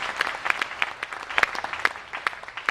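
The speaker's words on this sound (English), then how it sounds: "Let's get some applause." Applause at a fundraising dinner in November 2010: a moderate, steady patter of many hands with sharper individual claps poking through, lasting about three seconds, with no talking.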